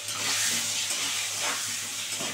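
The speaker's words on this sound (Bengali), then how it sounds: "দিয়ে এবার আলুটাকে সুন্দর করে ভাজবো।" Potatoes with a little turmeric fry in a pan, giving a steady, close, fairly loud sizzling hiss that holds even throughout the short stretch with no voices.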